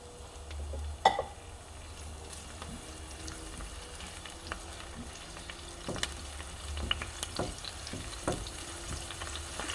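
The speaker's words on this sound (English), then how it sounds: "I want to fry them" Large spring onions fry in a pan with a soft, steady sizzle, fairly quiet and close, broken by a few light clinks and stirring knocks.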